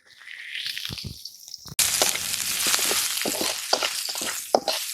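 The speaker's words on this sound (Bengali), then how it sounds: "তেল গরম হয়ে গেছে, এবারে কালো জিরে দিয়ে দিচ্ছি। জিরে দিয়ে দিচ্ছি, দিয়ে দিচ্ছি রসুন কুচি," Nigella seeds and chopped garlic hit hot oil with a sudden loud burst of sizzling, settling into a steady close crackle broken by small pops and spatters, with a softer sizzle beforehand.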